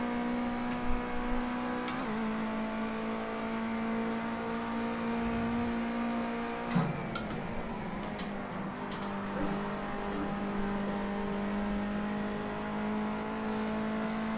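A race car engine drones steadily while driving in Project Cars 2, holding a sustained whine with two clear gear-shift dips before settling back into a smooth, continuous hum at a fairly constant volume.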